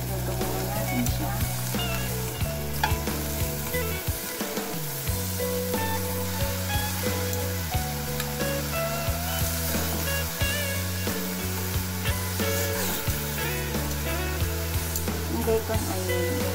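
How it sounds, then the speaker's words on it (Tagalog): Steady sizzling of bacon frying in a pan, running under loud background music with a deep bass line. "Una, prito muna natin itong ating bacon."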